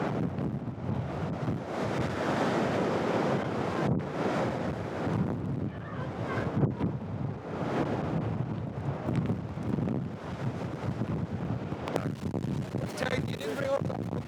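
Wind roars across the microphone on an English coast during a hurricane, with crashing ocean waves surging underneath in a constant, heavy rumble, loud and close throughout.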